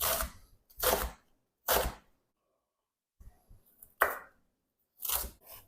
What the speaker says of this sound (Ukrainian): Салат нарізаю середнім кубіком.